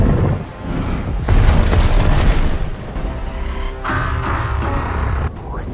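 Mechagodzilla firing missiles in a Godzilla film, heavy booming explosions rolling one after another at loud volume, with rumbling bursts and sharper impacts.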